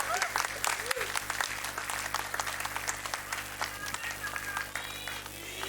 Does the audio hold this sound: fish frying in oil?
no